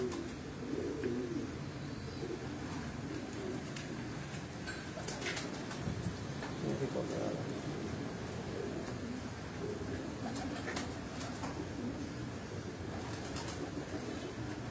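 Champion breed pigeons, including a paired couple, coo softly and continuously at a loft, low murmuring calls layered over steady background hum and faint rattling, no one speaking.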